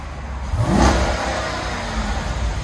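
2021 Jeep Grand Cherokee SRT on its stock exhaust, a quick engine rev swelling and falling back to a steady idle rumble, fairly quiet and heard without talk.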